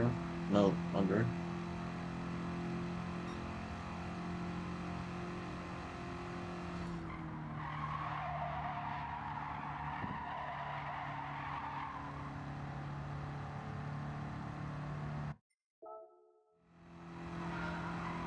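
Racing cars in Gran Turismo 7 at a Tokyo track, tires squealing and skidding under a steady engine roar, with a player talking throughout and a brief dropout near the end.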